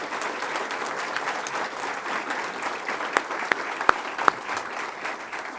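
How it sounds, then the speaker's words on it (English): A hall audience gives another round of applause at a children's hospital foundation gift event, a steady moderate patter of many hands with a few louder close claps near the end. "I think she deserves another round of applause."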